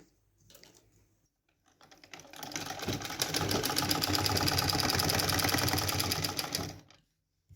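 A sewing machine stitches petticoat fabric, the motor running in a steady, fast, rattling burr for about four seconds after a couple of short starts, fairly close and alone.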